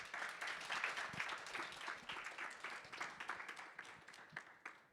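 Audience applause in a conference hall after a panel session on water access: steady, dense crowd clapping that holds for several seconds at a modest level, with no voices over it.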